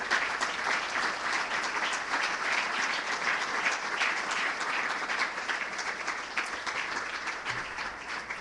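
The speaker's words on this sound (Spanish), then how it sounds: "vamos a dar un aplauso al Señor" Steady applause from a church congregation clapping for the Lord, a continuous, even patter of many hands lasting several seconds at moderate distance.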